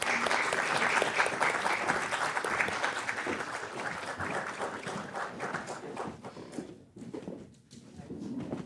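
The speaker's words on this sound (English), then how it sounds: "Can we please have a big round of applause?" Auditorium audience at a law and arbitration conference session giving a big round of applause, a steady dense clatter of many hands that holds for several seconds, then thins and breaks off near the end.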